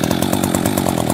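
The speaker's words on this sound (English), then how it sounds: "Pull the saw as many times until it starts." Echo CS-4910 or CS-590 chainsaw just started, its two-stroke engine running loud and close with a rapid, even pulsing buzz throughout.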